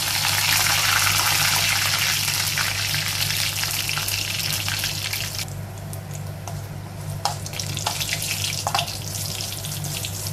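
Curry leaves hitting hot oil for a homemade pineapple pickle, a loud hissing sizzle that crackles steadily, then settles into quieter spitting with a few sharp pops, over a low steady hum.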